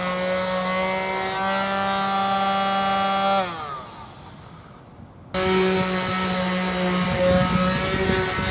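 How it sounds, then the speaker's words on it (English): Two power sanders work on wooden van interior panels, their steady whining motors overlapping, one cutting out partway before restarting loudly at close range. "we have two sanders, so we can both be sanding at once"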